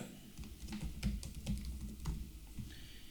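Fingers typing on a computer keyboard while a settings form for an e-commerce integration is filled in, a steady patter of soft, close key clicks in uneven bursts, heard alone without talk.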